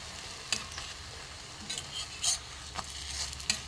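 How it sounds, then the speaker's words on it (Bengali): Mango malpua batter fries in hot oil with a steady sizzle, broken by occasional stirring clinks and taps from a utensil against the pan. "পিট পিট করে ভালো করে ভেজে নেবো।"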